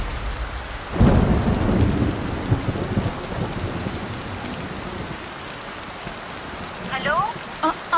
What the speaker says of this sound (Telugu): ఇక్కడ బాగా వర్షం పడుతుంది